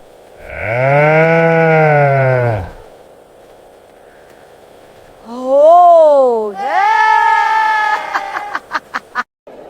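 An Eid sheep on a street lets out two loud, drawn-out bleats close to the listener, with a gap of quiet between them, then a rapid run of clattering clicks.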